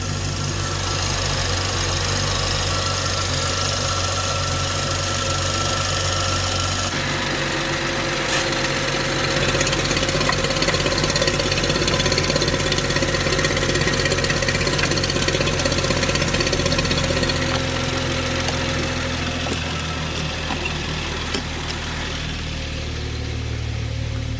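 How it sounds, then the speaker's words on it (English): BMW 3.0L N55 engine idling high on a cold start, a steady close mechanical drone with a constant hum and faint ticking that runs on without a break and with no talk. "It starts fine. High idle. Cold start."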